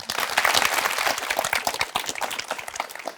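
Studio audience applause on a Turkish talk show welcoming a young university-bound guest: a dense, steady burst of many hands clapping, close and full, easing slightly toward the end.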